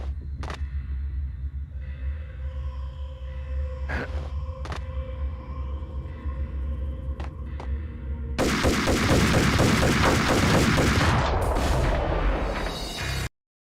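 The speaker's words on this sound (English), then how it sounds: "Four shots, didn't land." Sparse sharp gunshots from the PS2 version of the video game Max Payne ring out over a droning background, then a loud, dense barrage of fire breaks out before cutting off abruptly.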